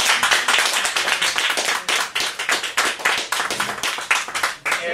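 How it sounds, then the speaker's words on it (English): A literary cafe audience at a poetry reading claps loudly and close by, a dense run of sharp individual handclaps with an uneven rhythm and no talk over it. "we should give another round of applause to Joanne"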